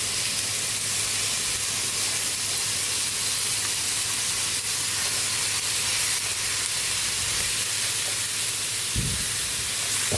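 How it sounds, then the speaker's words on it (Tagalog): Food sautéing with oyster sauce in a pan, a continuous even sizzle and steamy hiss with a short low knock near the end. "Lagyan na rin natin ng oyster para lumaki na siya habang ginigisa."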